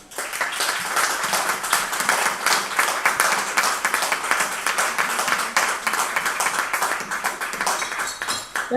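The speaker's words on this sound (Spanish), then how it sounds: "Por nuestra cuenta, un aplauso" Sustained, lively clapping from an audience at the close of a talk between Cristina Morales and Xaime Martínez, evenly dense across the whole stretch and dropping off briefly at the very end.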